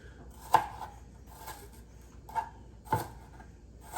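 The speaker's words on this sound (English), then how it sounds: "I'm like ninja chopping it." Onion being chopped on a cutting board for meatloaf, four sharp knife strikes spaced irregularly, close and moderately loud with no talking.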